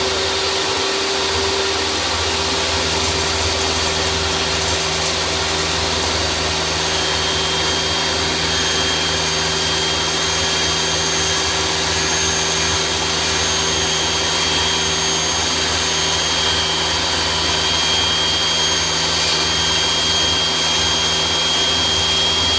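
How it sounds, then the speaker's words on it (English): A table saw running at full speed while a zero clearance insert is cut, giving a loud, continuous motor whine and hum that holds steady throughout with no talking. "So now we simply start the table saw."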